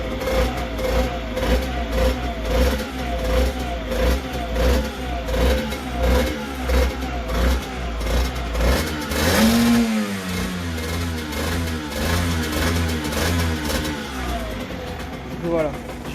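A cold motor vehicle's engine idles low and rough with a steady throbbing rumble, then revs sharply once near the middle before settling back to a slightly uneven idle, loud and close throughout.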